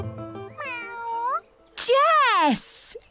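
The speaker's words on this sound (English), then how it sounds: "The alien cat." A cartoon alien cat gives two drawn-out, rising-then-falling meows, the second louder and wavering, over light background music.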